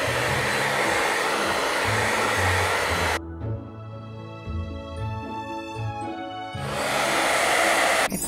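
A hair dryer blows on squishy paint, loud steady whooshing airflow up close that drops to a lower whine for a few seconds, then returns to full blast.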